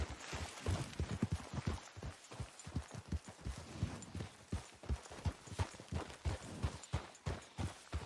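A horse gallops along in Red Dead Redemption 2, its hooves drumming out a quick, rhythmic clip-clop of repeated thuds, moderately close and steady throughout with no talking over it.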